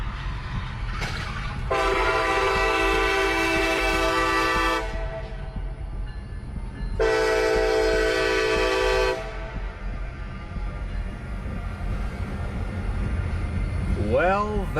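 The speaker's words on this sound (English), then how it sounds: "The vehicle narrowly avoided being struck as the train sped past," A train speeds past a railway crossing close by while its horn sounds two long, loud blasts separated by a pause, over continuous rolling wheel noise.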